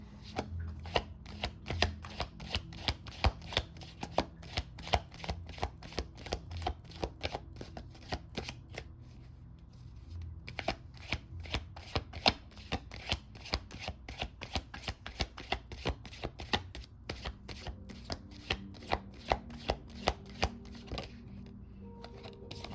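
Tarot cards being shuffled by hand in a quiet room, a long run of crisp, rapid riffling flicks and soft slaps repeating steadily, close and clear, with a brief lull midway and no talking.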